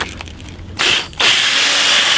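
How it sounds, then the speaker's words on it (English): A power drill spins a small pivot pin against a piece of sandpaper, giving a faint mechanical rattle, then a loud whirring grind that briefly drops and resumes steadily, heard close up with no talk. "put it in a drill, get a piece of sandpaper and work it back and forth"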